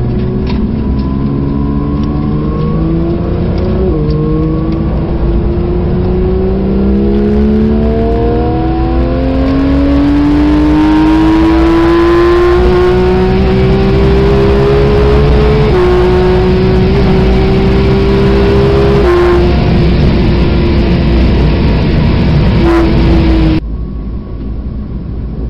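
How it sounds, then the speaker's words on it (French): BMW 235i driving hard on the Nürburgring track, a loud, close engine revving up through gears with rising pitch and brief shift dips, then cutting off near the end. "La 235i arrive en piste."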